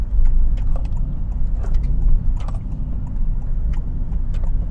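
A Honda City RS hatchback weaving side to side at about 40, its low engine and road rumble steady inside the cabin, with scattered small clicks and rattles and no voices.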